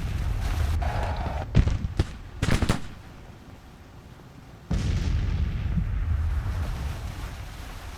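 Gunfire and artillery from the American Civil War video game Grand Tactician: The Civil War, with sharp volleys and cannon blasts bursting out in quick succession, a quieter gap, then a sustained loud rumble of continuous battle fire.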